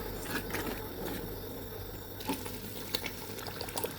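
A stew of blended peppers and onions simmers in a pot, giving a steady, close bubbling and hissing that carries on without pause.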